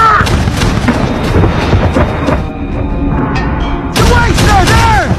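Naval guns on a warship fire in a war-movie battle as a radar contact closes in, with heavy booming blasts rolling over a loud, dense combat din and a fresh burst of explosions near the end.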